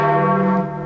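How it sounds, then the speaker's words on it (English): Church bells ringing at Pope John Paul II's funeral: a loud, sustained, resonant tone with rich overtones, briefly fading toward the end. "the bells."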